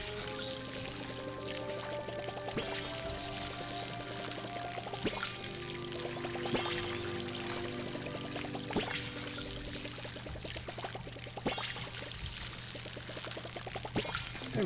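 Crops being watered in the video game Palia, a steady pouring and splashing stream of water running continuously with small rising fill tones, close and even throughout, no talking.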